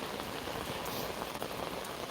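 Steady rain falls outdoors in spring, a dense even hiss of drops on surfaces with faint scattered patters, soft and continuous with no talk.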